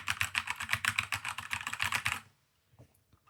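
Rapid typing on an Epomaker x Aula F75 mechanical keyboard with red switches, a quick run of soft, muffled keystrokes up close that stops abruptly, followed by a few faint scattered clicks.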